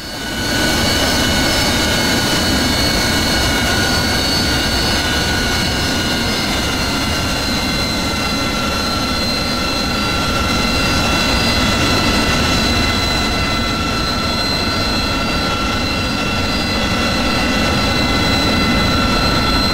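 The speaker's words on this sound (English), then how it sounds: "Copy that. Engine startup." Jet aircraft engine spooling up during startup in the DCS flight simulator, on a Vietnam-era Wild Weasel anti-SAM mission: a loud, steady roar with sustained high whining tones that hold for the full stretch, with no talk over it.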